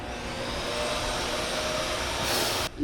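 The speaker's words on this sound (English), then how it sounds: "someone comes in and starts hoovering" A vacuum cleaner drones loudly and continuously nearby, a steady whirring roar that swells briefly near the end before cutting off abruptly.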